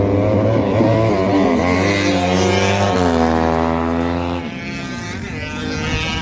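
Motorcycles at a race held on the Kampong Chhnang airfield roar steadily and loudly, engines rising in pitch through a couple of gear changes before easing off, with crowd noise faint underneath.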